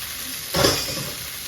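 Short ribs searing in a hot pan, a loud sizzle bursting in about halfway through and holding steadily to the end, with no talk.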